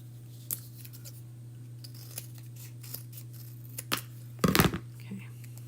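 Scissors trim paper for a Halloween chalk-painted sign, giving a few faint snips spread out over a steady low hum, then a louder brief cutting rustle near the end.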